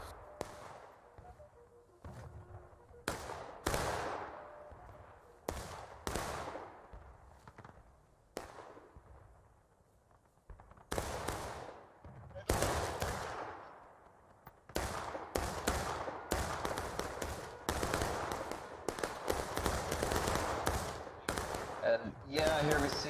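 Massed musket and rifle volleys crackle across an open field in a 260-player Civil War battle game set in the Maryland Campaign, bursts of dense popping firing in irregular waves that thicken into near-continuous fusillade, with faint voices underneath.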